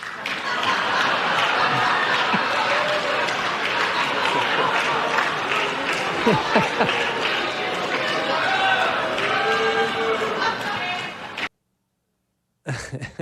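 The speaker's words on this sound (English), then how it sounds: "They keep clapping" An audience at a Trump presidential address keeps clapping in a dense, sustained wash of applause, with a voice speaking over it before the sound cuts off abruptly near the end.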